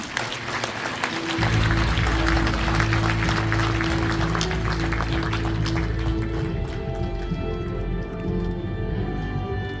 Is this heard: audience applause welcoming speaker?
yes